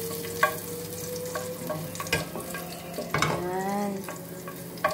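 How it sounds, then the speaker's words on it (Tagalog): Garlic, onion and ginger sauté in a pan with chicken liver for chopsuey, giving a steady close sizzle broken by scattered scraping and clattering stirs. "ginisa ko na sa bawang, sibuyas at luya"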